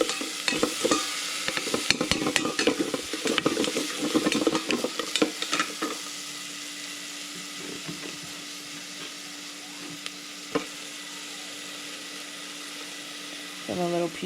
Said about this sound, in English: So I'm going to drop the onion in there. I'm going to saute it a little bit.